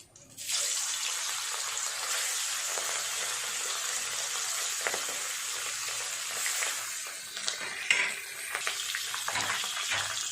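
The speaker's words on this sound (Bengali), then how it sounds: "তুলে নিয়ে একইভাবে বাকি মাছগুলো সব ভাজা করে নেব।" Pieces of catla fish frying in hot oil for a spiced yogurt curry give a steady, close sizzle that runs unbroken, with a few brief clinks and bumps of handling partway through.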